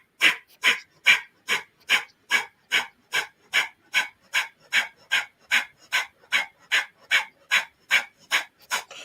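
Rapid rhythmic breath of fire from a kundalini yoga practice, about twenty sharp, evenly spaced forceful exhales pumping steadily and close, with no talking over them.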